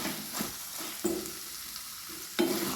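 Pea and potato curry being stirred with chopped cilantro, a soft simmering sizzle broken by a few sharp spoon scrapes against the pan, close and quiet.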